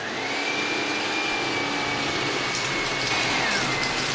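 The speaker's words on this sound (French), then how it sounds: "on va commencer la recette par battre nos 4 jaunes d'œufs avec notre sucre et avec soit un fouet électrique" Electric whisk beating four egg yolks with sugar for Speculoos ice cream, a loud continuous close motor whir with a slight shift in pitch as the beaters move through the thick mixture, no talking.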